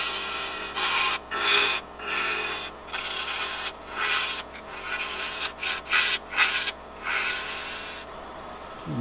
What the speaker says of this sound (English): Just going to hollow out the center a little bit.